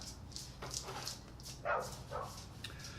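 A dog gives short yips and soft whimpers, several brief cries spaced through a quiet moment, fairly close, with a faint low hum behind them and no talking.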